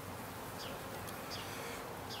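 Many honeybees crawling on a frame pulled from a hive make a steady close buzzing hum, with a few individual bees droning louder as they fly past.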